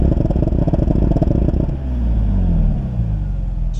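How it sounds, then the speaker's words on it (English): A Toyota 2JZ-GE engine in a Lexus GS300/IS300, heard at the exhaust, bouncing on a Haltech soft-cut rev limiter: loud rapid stuttering misfire pops and crackle, then settling into a lower uneven rumble. "If I give it more gas, we can induce some more aggressive misfires."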